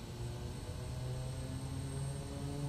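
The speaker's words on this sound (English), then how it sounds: "Now we'll slowly bring that power up to takeoff." A Quest Kodiak 100 engine in Microsoft Flight Simulator drones steadily as power is brought up for takeoff, a constant close hum with layered tonal whine that holds level throughout, with no voices.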